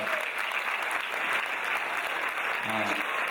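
Audience applause at a Bharatanatyam arangetram, a dense, steady wash of many hands clapping close and loud for the full stretch, with a brief voice surfacing near the end.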